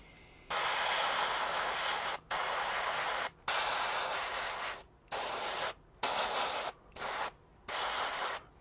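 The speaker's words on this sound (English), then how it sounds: "the advantage of the airbrush is it atomizes" An airbrush sprays thin paint onto an HO scale Atlas boxcar in bursts of hissing spray, several start-stop passes of varying length separated by brief silences, close to the listener with no talking.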